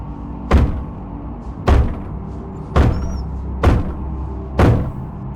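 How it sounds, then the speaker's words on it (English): A head bangs against a wooden basement door in five heavy, evenly spaced thuds about a second apart, close and resonant, with quiet low rumble between blows. "banging his head against the basement door"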